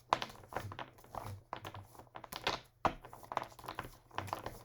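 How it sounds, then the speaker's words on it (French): Tarot cards are gathered and covered by hand, giving a close run of quick irregular taps, soft slaps and light shuffling knocks that sound almost like typing, with no voice. "Je vais recouvrir les cartes."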